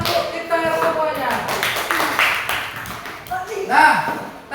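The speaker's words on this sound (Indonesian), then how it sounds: "Sekarang tepuk tangan untuk kita semuanya." A classroom group claps hands in a short burst of scattered applause, mixed with voices and children's chatter.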